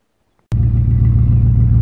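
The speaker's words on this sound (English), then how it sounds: "this is proof that the misfire is taken care of. Idling perfect." A 1980 Buick Regal engine idles after a misfire repair, starting abruptly and settling into a steady, loud, close low rumble with no talking.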